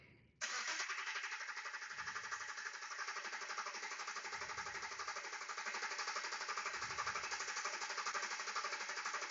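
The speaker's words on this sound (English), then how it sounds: "Accelerate to the floor and crank it till I tell you." A 2003 BMW 530 E39 with the M54 engine cranks with fuel disabled. A brief sound at the start gives way to a steady, rapid, loud starter-motor whir that continues evenly throughout, with low thumps recurring every couple of seconds.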